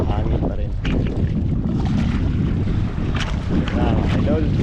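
Strong wind buffets the microphone in loud gusts, with a person talking underneath and a roaring, sea-like wash in the background.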